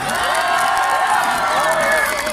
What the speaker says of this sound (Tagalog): palakpakan na may kasama sigaw